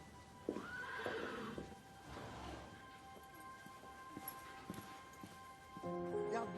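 A horse gives a long whinny early on, followed by scattered hoof clops and quieter snorting, all faint and set against a soft outdoor background.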